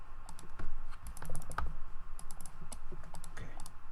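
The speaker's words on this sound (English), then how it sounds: "Spam clicking" Rapid, irregular clicking from a computer mouse, close and fairly crisp, during a Minecraft play session, with keyboard-like taps and no talking.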